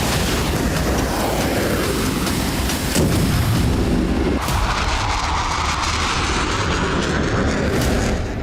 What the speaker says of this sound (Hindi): जब रूस से दंदनाती हुई मिसाइलें हमले के लिए पहुंची